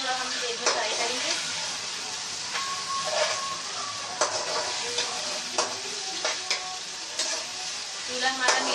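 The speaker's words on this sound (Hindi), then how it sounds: "इनको थोड़ा हम तेल में फ्राई करेंगे।" Chicken frying in oil in a pan over a medium flame: a steady, close sizzle with repeated stirring scrapes and clacks running throughout.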